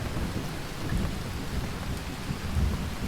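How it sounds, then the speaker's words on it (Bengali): Heavy downpour with rolling thunder on a stormy evening, a steady dense roar of rain punctuated by low booming rumbles, loud and close with no voices. "একসময় মুষলধারে বৃষ্টি শুরু হলো"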